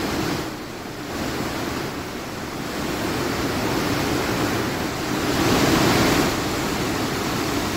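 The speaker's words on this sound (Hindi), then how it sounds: "ये धौली गंगा नदी का रौद्र रूप है, जहां पर पूरे उफान पर है इस वक्त नदी।" The swollen Dhauli Ganga river rushes in flood with a loud, steady roar of churning water that swells slightly midway, with no voices.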